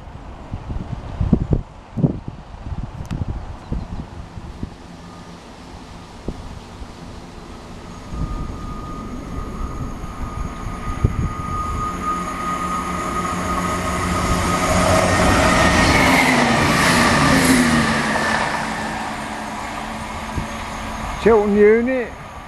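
A Chiltern train running between Marylebone and Birmingham Moor Street passes at Kings Sutton, a rumbling roar swelling to a loud peak, then fading, with clattering sounds and wind beforehand.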